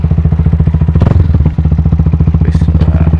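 A custom Benelli Motobi Evo 200 idles close by with a loud, rapid, even thumping beat and a brief rev near the start, with a short spoken phrase over it.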